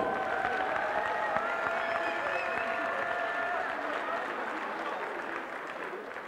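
Applause from an MMA event audience after a fight fills the space, steady and broad, fading slightly toward the end with a faint voice over it.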